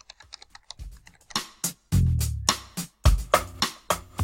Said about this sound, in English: in the course name, we will type in accounting